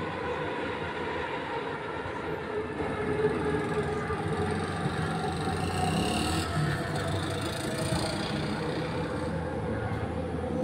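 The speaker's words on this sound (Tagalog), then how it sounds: "parang may biyahe pa rin yung LRT" An LRT light-rail train passing somewhere in Malaysia: a low, steady rolling rumble with faint rail clatter, heard from a distance and fairly quiet, holding evenly throughout with no talk over it.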